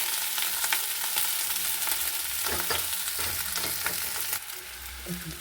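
Cooked rice sizzling in ghee in a hot pan while a utensil stirs and scrapes it, steady frying hiss with no speech.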